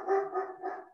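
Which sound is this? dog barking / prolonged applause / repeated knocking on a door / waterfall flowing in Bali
dog barking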